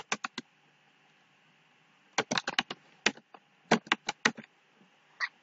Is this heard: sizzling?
no